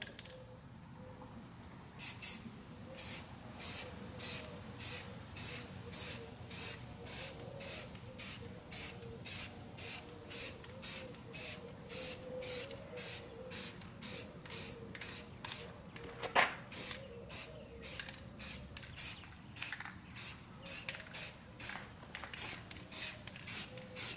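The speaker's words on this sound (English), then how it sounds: "I like to start spraying before I'm actually on the surface I'm gonna spray" Spray paint hisses from an aerosol can onto Jeep Cherokee XJ corner bumpers in short, rhythmic bursts, repeated steadily back and forth, close and fairly quiet.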